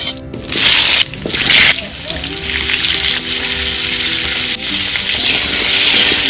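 Potatoes fry in hot oil in a newly built home kitchen, a loud, continuous crackling sizzle with bursts of spitting and stirring, and a voice faintly audible underneath.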